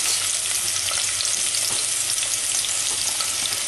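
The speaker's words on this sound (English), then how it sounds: "I have to stir fry this for 1 to 2 minutes." Turkey curry base of onion and spices stir-frying in oil in a pan, a close, steady, dense sizzle and crackle that stays loud and unbroken throughout, with no talking.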